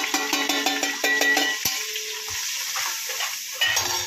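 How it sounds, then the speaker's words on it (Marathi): Masala being tipped into hot oil in a pan while cooking prawn rice, with spoon scrapes and clinks against the pan at first, then a steady close sizzle of frying, with no talking. "जो हा मसाला घेतलेला आहे, हा मसाला आपण तेलात टाकून घेऊ"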